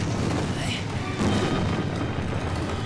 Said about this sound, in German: Es explodiert.